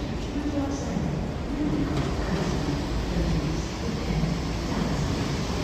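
A West Midlands Railway class 172 diesel passenger train rumbles steadily into Birmingham Snow Hill station, a continuous low mechanical drone with faint clatter and no clear voices.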